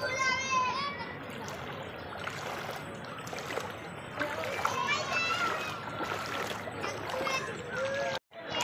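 Floodwater sloshes and splashes inside a shop in a flooded neighbourhood, a steady watery wash heard close by under continuous talking.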